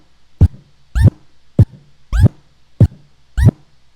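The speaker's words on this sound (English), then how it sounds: "a chirp scratch simply sounds just like this" A DJ performing chirp scratches on a turntable platter with the crossfader: six short, sharp swiping chirps in a steady rhythm, loud and close, with nothing else around them.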